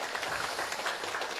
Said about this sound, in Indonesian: Tepuk tangan buat orang Sunda, orang Indonesia.